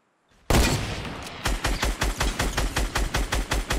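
SCAR assault rifle fire in Fortnite: one loud close burst, then a rapid, even string of sharp shots that carries on to the end.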